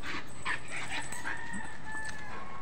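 A dog whimpers and yips in short, repeated bursts close by, with a person's voice speaking softly over it.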